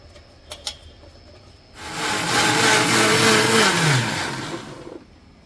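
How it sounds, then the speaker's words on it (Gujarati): A kitchen mixer grinder whirs loudly for about three seconds grinding tomato chutney, starting abruptly, holding a steady high whine with a falling pitch, then cutting off. "બધી જ વસ્તુ છે ને પેલા મિક્સરમાં નાખીને પીસી દઈએ આપણે"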